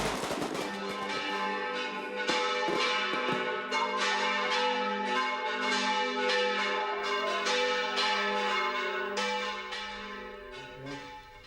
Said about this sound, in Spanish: La mascleta, junto a las campanas, resuenan en todo el valle